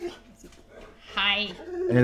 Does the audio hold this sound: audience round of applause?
no